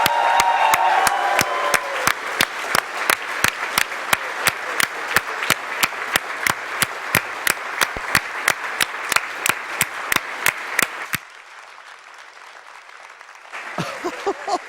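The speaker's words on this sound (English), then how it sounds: "Give these guys a round of applause." Applause from an audience at a Games Done Quick speedrunning marathon event honoring the runners of Mike Tyson's Punch-Out!!, heard as a steady stream of sharp, evenly spaced claps that stop abruptly, followed by quieter room noise.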